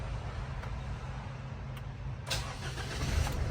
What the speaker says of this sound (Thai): ตัวนี้ผมสตาร์ทนะครับ กดหนึ่งทีนะครับ